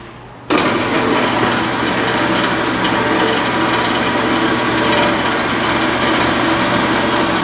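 A Tommy Ironworker shears through a piece of steel clamped in a vise, starting abruptly with a loud, steady mechanical grinding and whine that runs continuously close to the microphone.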